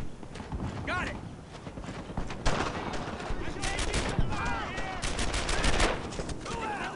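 Rapid bursts and single cracks of rifle and machine-gun fire in the World War II shooter Brothers in Arms: Earned in Blood ring out near and far, with shouting soldiers' voices mixed in.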